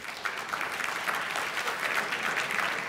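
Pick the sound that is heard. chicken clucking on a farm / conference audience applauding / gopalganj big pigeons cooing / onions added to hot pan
conference audience applauding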